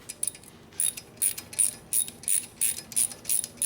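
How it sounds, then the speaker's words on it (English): A ratchet wrench turns an eight-point socket on a square fastener while converting the heads of a 1957 Harley-Davidson Panhead drag bike, giving about ten quick, bright clicking bursts in a steady rhythm, close and alone. "I always use a ratchet."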